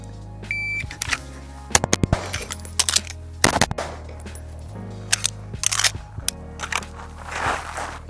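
Sharp pistol shots with an Atlas Artemis handgun crack out in spaced clusters during a reload drill, loud and close, with clicks and a timer beep between the bursts.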